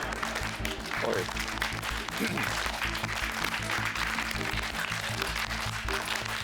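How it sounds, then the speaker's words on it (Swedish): A television studio audience claps deliberately out of rhythm, a dense, uneven patter of many hands running steadily throughout, with a brief voice exclaiming over it. "Och då ber vi publiken att klappa lite i otakt här"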